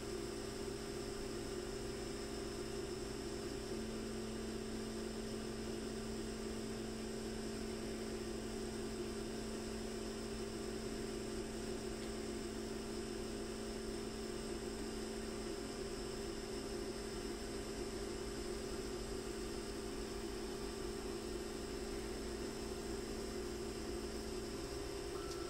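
A 100 watt laser cutter running a slow cut, a steady droning hum with constant fan and motor noise throughout, unchanging and moderately quiet.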